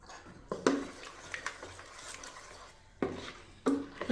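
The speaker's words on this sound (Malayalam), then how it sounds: "നമുക്കിത് മാവിലേക്ക് ചേർത്ത് നന്നായിട്ട് ഇളക്കാം" A ground paste with cumin is stirred into appam batter in a bowl, with a few distinct clinks and knocks of the spoon against the vessel between quieter wet stirring sounds, close up and without speech.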